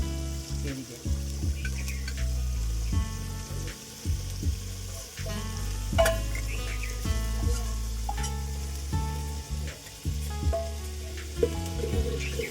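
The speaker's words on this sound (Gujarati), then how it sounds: "એ રીતે શેકા દઈશું આપણે બરાબરનું મસ્ત શેકશું એકદમ ગ્રેવી" Masala gravy for samosas sizzling and roasting in a pan while being stirred, a continuous low frying hiss with scraping stirs and clinks, close and steady.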